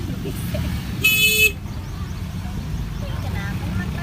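A single short car horn honk rises over a steady rumble of jammed road traffic beside a cliff on the Malino road, with a fainter toot later and people talking nearby.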